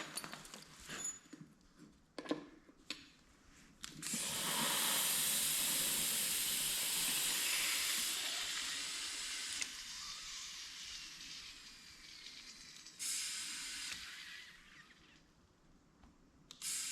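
Compressed air hisses loudly into a John Deere 316 snow blower tractor front tire through the valve stem, coming in several bursts, with clicks and handling noises before and between them.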